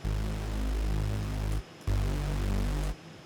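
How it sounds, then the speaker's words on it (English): Heavily pitched-down Omnisphere super saw bass preset with no effects, playing two long sustained low notes with a brief gap between them, full and droning with no other sounds. "I found this super saw preset, and I pitched it down a lot."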